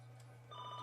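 A telephone rings faintly at a distance, a short electronic trill starting halfway through over a steady low hum.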